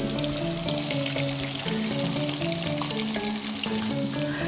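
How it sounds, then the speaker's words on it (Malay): Spice ingredients with belacan frying in a pan, a steady, dense close-up sizzle that runs without pause, with no talking. "goreng dulu kita punya belacan"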